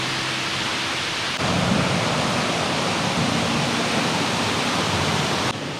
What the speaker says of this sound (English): We're on top of the first waterfall